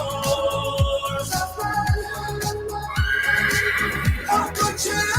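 A horse neighs with repeated whinnying calls over a steady backdrop of music and rhythmic thumps.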